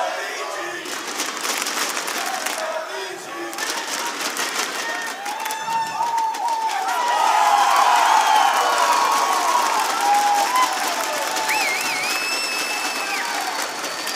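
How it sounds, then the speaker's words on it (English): A large indoor crowd at a live Rainbow Six Siege esports event in Montreal cheers and applauds steadily, with whoops and shouts rising and swelling midway, and a few whistles piercing the roar. "And you can hear how this crowd want to get on with this."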